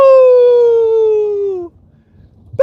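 A voice gives one long, slowly falling howl imitating a dog, loud and close, trailing off into near silence before a brief sound at the end.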